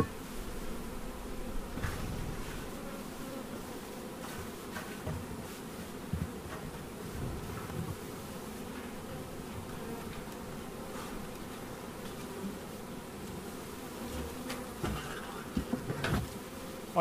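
Honey bees buzzing around an open beehive with a queen excluder while wax is scraped off: a dense, continuous hum of many bees close by, steady throughout, with a few faint knocks and scrapes.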